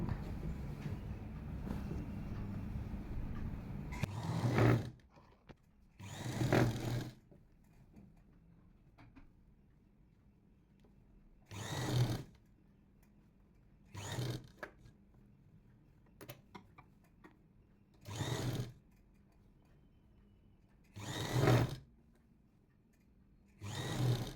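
Sewing machine stitching the lining of a kurti sleeve, heard as repeated short bursts of fast mechanical whirring, about seven runs separated by quiet pauses, close by with no talking.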